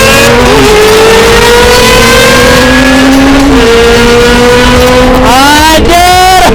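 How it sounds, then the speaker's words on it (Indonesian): A Kawasaki ZX25R motorcycle with a cut exhaust revs very loud and close, a raspy, high-pitched engine note that holds, dips and then climbs sharply toward the end. "Jadi gue geber ya."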